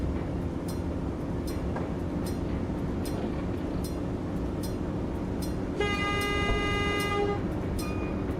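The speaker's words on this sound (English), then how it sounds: "Sounds like a German train horn, doesn't it?" A steady rumble of a passing train, then a loud two-tone German-style train horn blast sounding for a couple of seconds near the end.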